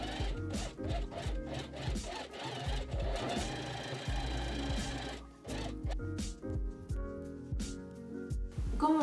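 A sewing machine stitches along a folded fabric hem for a vintage smocked top, giving rapid mechanical chattering bursts that pause briefly midway and then resume in short runs, close and clear.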